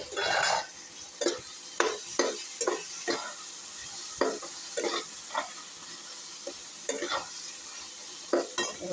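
Spinach fries in a pan under a low hiss while a spatula stirs it in repeated sharp scraping strokes, close and irregular, with no speech.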